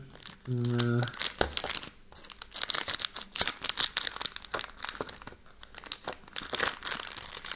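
Plastic foil wrapping on a Samsung ES95 camera crinkles and crackles in quick irregular bursts, close and fairly loud, while someone talks briefly near the start.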